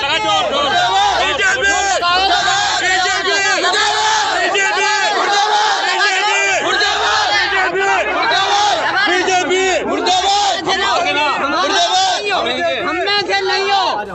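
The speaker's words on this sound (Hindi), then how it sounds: "बीजेपी सांसद के सामने मुर्दाबाद के नारे लग रहे हैं" A large, dense crowd chants protest slogans in unison against a BJP MP, loud, rhythmic shouted voices continuing without a break amid the general roar of a rowdy public gathering.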